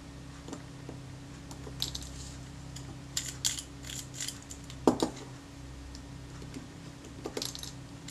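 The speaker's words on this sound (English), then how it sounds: "You can hear the click stops there." A retaining ring being rotated into place, giving a few faint, close-up mechanical click stops scattered irregularly across a quiet background.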